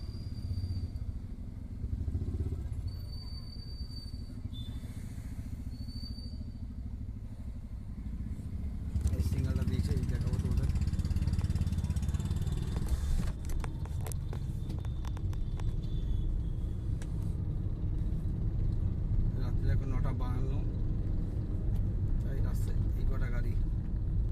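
Night road traffic on a Kolkata street near the metro line: a quieter start gives way to a steady roar of cars and motorcycles passing close by, with people talking over it.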